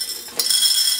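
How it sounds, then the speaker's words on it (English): Blue decorative rocks drop into a low flower container, one sharp clink followed by a bright, scattered rattle at close range, with no speech. "And I'm going to take some decorative rocks, blue, just to create a feeling of water."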